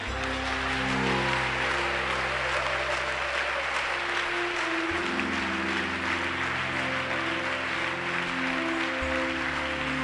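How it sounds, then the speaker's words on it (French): A church congregation claps and cheers for the Lord in continuous, dense applause lasting the whole stretch, with sustained music chords and a crowd murmur underneath. "j'aimerais que tu acclames encore le Seigneur"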